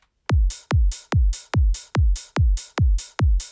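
A punchy psytrance kick drum alternates with an open hi-hat on each offbeat in a steady, simple loop: eight kicks, with a bright hiss between them.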